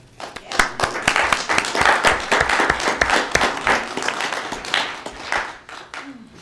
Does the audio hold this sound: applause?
yes